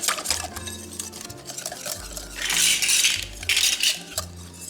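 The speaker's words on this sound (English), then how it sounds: "Whisk all that in." Metal whisk clinking and scraping briskly in a bowl as cinnamon, ginger and cloves for pumpkin pie are mixed in, a steady close rhythm of light taps and swishes with no talking.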